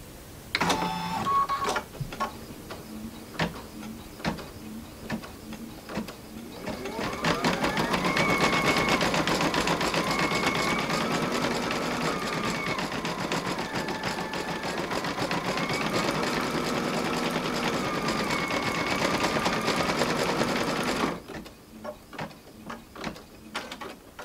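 A computerized embroidery machine stitches a pattern with one thread color, first ticking in brief starts, then settling into a steady, fast mechanical whir with shifting motor tones for about fifteen seconds before it stops.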